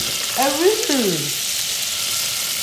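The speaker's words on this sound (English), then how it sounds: "You can do a nice shot of butter melting, Mark." Butter and flour roux cooking in a pan, a soft steady sizzle throughout with a brief harmonic squeak or voice-like tone early on.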